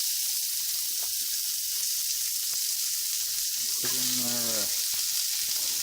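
Vegetables sizzle steadily in a hot pan at close range, a broad hiss running throughout, with a brief voice cutting in near the end.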